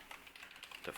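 Rapid keystrokes on a computer keyboard while coding, a steady close clatter of keys with a faint voice in the background.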